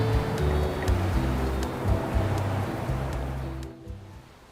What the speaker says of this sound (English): Waves were rough as expected in the spring, so the pool was closed like the others, but they are amazing just to watch from the cliffside.